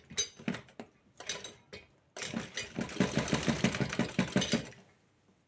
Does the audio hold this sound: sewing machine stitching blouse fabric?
yes